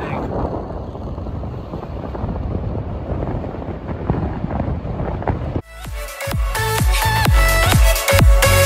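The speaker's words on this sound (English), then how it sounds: "It's really windy and really, really rough and treacherous, I think." Strong gusty wind roars against the microphone by a rough sea at Porthcawl, a heavy continuous buffeting that shifts midway into a harsher, choppier blast with sharp low thumps.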